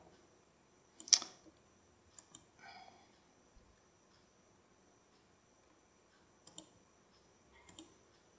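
Mouse clicks during a software tutorial in SALOME and OpenFOAM, with one sharper click followed by a few faint, sparse clicks spread across an otherwise quiet desk background.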